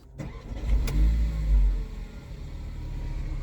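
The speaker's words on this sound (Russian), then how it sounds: "Автомобиль заводится с ключа." A Mercedes car engine is started with the key: a short starter crank and catch, then a deep rumbling idle that swells briefly before settling into a steady low hum, heard close with no talking.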